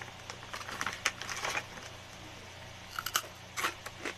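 Someone bites and chews a crunchy dried vegetable snack, producing quiet, irregular crisp crunches in short clusters with pauses between them.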